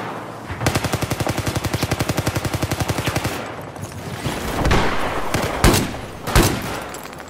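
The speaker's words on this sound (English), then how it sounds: "I have eyes on an enemy machine gunner north of your location." Enemy machine gun fire in Battlefield 4 on PS4: a long, steady burst of rapid automatic shots, followed by a few scattered heavier blasts and impacts.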